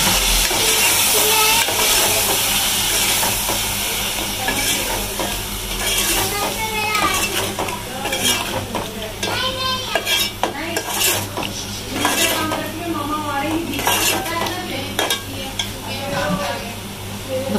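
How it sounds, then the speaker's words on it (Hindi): Minced meat frying in a pan with ginger, garlic, chilli and spices, stirred steadily so utensils clatter and scrape against the pot over a constant sizzle, with a voice talking over it. "कीमा जैसे अदरक लहसुन भुना तो उसके साथ में ये मिर्ची मसाले भी डालेंगे ताकि ये मसाले भी भुने।"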